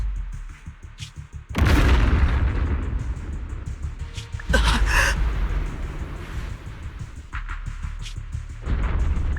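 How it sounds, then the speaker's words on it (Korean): An airship crashes and explodes in a Zenless Zone Zero cutscene, with two loud, heavy booming blasts and a rumbling roar that trails on between them, standing out over game sound. "비행선이 추락하고 있어."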